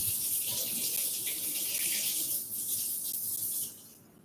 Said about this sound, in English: I'm going to put water in it first so I can gauge what my batter is going to be like